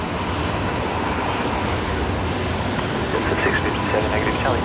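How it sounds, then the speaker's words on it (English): A Qantas airliner lines up on runway 19 left at Brisbane Airport at night, its engines giving a steady, distant roar under a constant wash of noise. "Qantas 941 heading down to Perth tonight. Looks like they're just lining up at the Alpha 3 intersection on runway 19 left"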